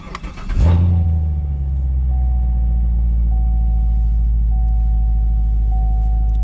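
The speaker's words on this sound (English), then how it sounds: "to start it up, of course, because it is an automatic, foot on the brake, start button right there" A Chevrolet Corvette Grand Sport C7 V8 engine cranks and fires up with a short roar, then settles into a deep, steady idle rumble close by.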